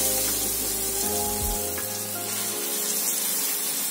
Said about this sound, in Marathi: आता आपण हे बॅटर तेलामध्ये पसरवून घेऊया